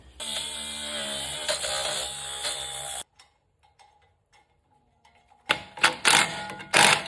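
A brake rotor resurfacing machine works on the rear brakes of a 2019 Ford Escape, whirring and ticking steadily for three seconds, then falling almost silent before several loud mechanical bursts near the end.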